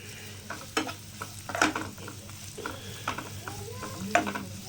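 Onions sautéing in a pan for quail pepper fry, a low steady sizzle with repeated scraping stirs and a few clinks of the spatula, no speech.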